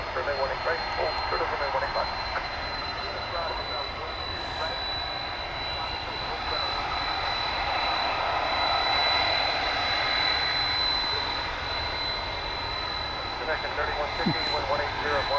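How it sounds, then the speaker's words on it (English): A FedEx airliner taxiing at DFW Airport gives off a steady, loud jet-engine roar with a high whine that lasts the whole stretch, swelling slightly midway, while people talk over it. "MG Cariopoli says FedEx was taxiing with youthful enthusiasm"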